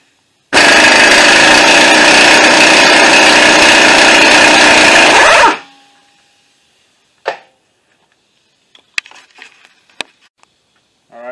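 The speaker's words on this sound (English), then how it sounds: "And I'm going to go ahead and take the axle nut off." A power tool spins off the axle nut on a 2008 Toyota Solara during a front CV axle replacement: one loud, steady mechanical burst for about five seconds that stops abruptly, followed by quiet and a few sharp metallic taps.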